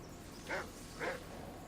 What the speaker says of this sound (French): Oh non, il y a des chiens.